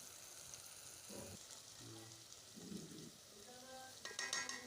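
Salt, chilli, turmeric, dried fenugreek and crushed red chilli fry in a pan for aloo bharta, giving a soft, steady sizzle with faint stirring, low and close throughout.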